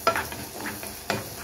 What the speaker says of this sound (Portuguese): Agora acrescentei a cebola